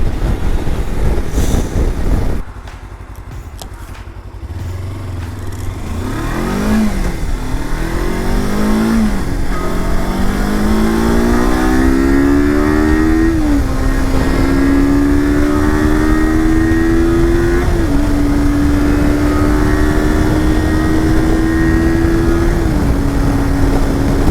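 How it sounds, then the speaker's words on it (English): Steady roar of wind and road noise from a motorcycle, recorded through a helmet at up to 70 mph, loud and continuous, with rising engine tones as it speeds up through the gears. "I'd like to see what that's gonna sound like with all the wind and noise."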